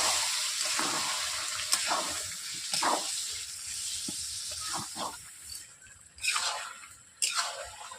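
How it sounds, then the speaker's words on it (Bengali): Water poured bit by bit into a pot of browned chicken curry, with splashing and hissing sizzle as it hits the hot pan, fading in and out with a few sharp clatters near the end. "চিকেনের মধ্যে আমি জল ঢেলে দিচ্ছি বন্ধুরা"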